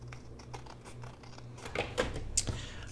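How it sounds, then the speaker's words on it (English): Scissors snip through paper at close range during card journal crafting, a series of short crisp cuts and rustles that grow busier and louder toward the end, with no speech. "Trim these off if I can find my scissors."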